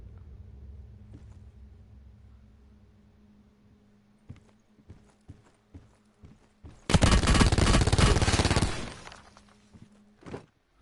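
Gunfire in the shooter game Black Ops 4 starts as scattered single shots and footsteps over a low hum. It then swells into a loud, continuous burst of about two seconds, with a couple of trailing shots afterward.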